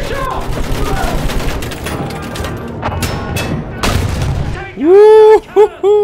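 Battlefield 1 gunfire: a dense fusillade of rifle and machine-gun shots with booming impacts fills the first five seconds, followed by loud rising and falling whistling tones, with voices in the mix.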